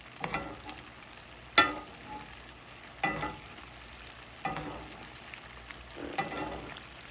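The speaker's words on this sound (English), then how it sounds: "Keep basting. You want to keep basting your steaks." Steak sizzling in butter in a cast iron skillet while being basted, a soft steady frying hiss broken by periodic louder splashes and spoon scrapes every second or so, fairly faint and close.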